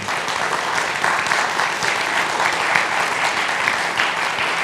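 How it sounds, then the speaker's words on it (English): An auditorium audience at Embry-Riddle applauds guest speaker David Rimmer, a steady, dense wash of clapping that holds at full strength throughout. "an applause and appreciation for our guest, David Rimmer."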